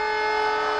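A new train at Balangir station sounds its horn in one sustained, loud, steady tone.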